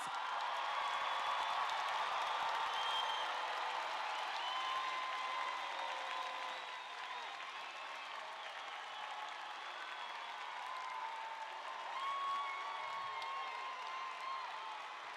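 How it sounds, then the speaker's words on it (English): At the Paint Branch High School 2023 commencement, the crowd gives the standing graduating class a round of applause: sustained, dense clapping with light cheering that holds steady, dips slightly midway, then swells again. "Can you please rise so we can give you a round of applause?"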